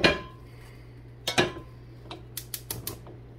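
Cooking pots shifted around on a home stovetop to make room: a few sharp metallic clanks and knocks, the loudest near the start and middle, then a quick series of lighter taps over a low steady hum.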